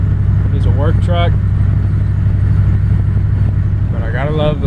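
A GMC Sierra SL work truck idles with a low, steady engine rumble close by, while someone talks over it in short bursts.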